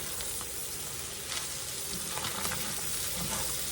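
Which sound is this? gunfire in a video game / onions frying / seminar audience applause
onions frying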